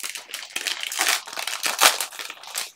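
An Ultimate Masters Magic: The Gathering booster pack is torn open up close, a continuous crinkling and ripping of foil wrapper with a few sharper tearing bursts.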